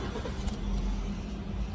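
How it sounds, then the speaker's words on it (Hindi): A Kia Sonet with an instrument cluster fault starts up, its engine turning over into a steady close idle rumble that fills the short stretch without speech. "देख सकते हैं, मैं गाड़ी को स्टार्ट कर रहा हूँ।"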